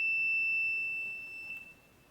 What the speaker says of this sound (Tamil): கனெக்ட் பண்ணால் இந்த பீப் சவுண்டு வரும் பாருங்கள்.